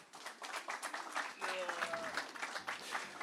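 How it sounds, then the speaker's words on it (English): Applause from a media launch audience for the Simbine Classic continental tour, steady clapping throughout with voices and brief tonal sounds mixed in partway. "let's give this man here a very warm round of applause"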